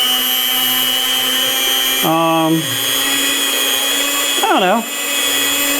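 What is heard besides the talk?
cheap stand mixer creaming butter and sugar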